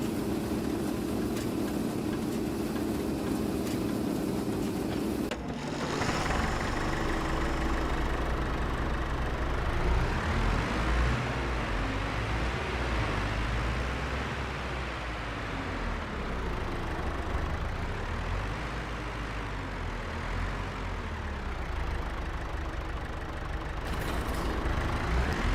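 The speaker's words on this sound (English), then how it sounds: "How do you like this tractor?" A tractor engine in Farming Simulator 25 runs continuously, a steady heavy drone that shifts in tone and swells and eases in load, close and fairly loud, with no talking.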